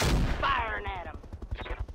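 Short, loud crack of gunfire in The Battle for Lockdale war game, an opening blast followed by a voice and a rattling run of quick follow-up shots.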